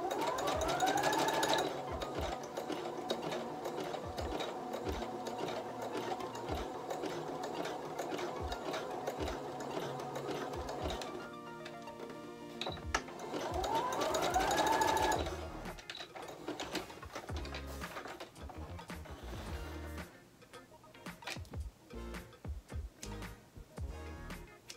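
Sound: sewing machine zigzag stitching elastic on bikini bottoms

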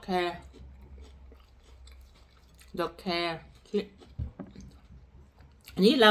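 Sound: chewing wild vegetables

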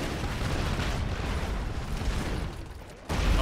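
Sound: gunfire in the video game Broforce

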